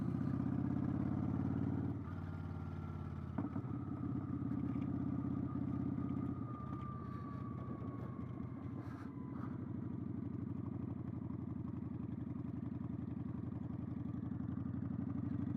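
A 2015 Kawasaki Vulcan 900 Classic motorcycle on the move, its steady, loud mid-range engine drone continuing throughout with a few gear changes and wind rush, no talking heard.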